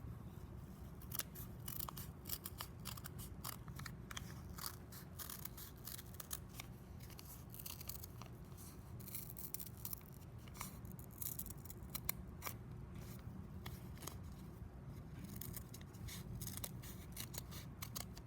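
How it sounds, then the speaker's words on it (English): Scissors cutting through felt heart shapes stuck onto paper, a steady run of soft snips and crunches repeating closely and quietly for the whole stretch, with no voice over it. "now I'm going to cut through my heart shapes"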